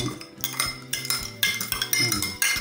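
A metal spoon clinks and scrapes repeatedly against a glass or cup while sugar is spooned in for whipped dalgona coffee, steady close clatter with no talking.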